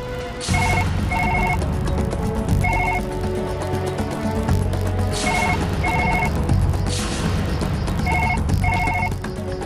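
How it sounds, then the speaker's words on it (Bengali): A telephone rings in repeated double bursts, a ringback-style tone pattern recurring steadily over continuous background noise, fairly loud and close. "কি হলো রিং হচ্ছে"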